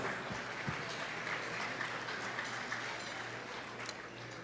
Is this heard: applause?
yes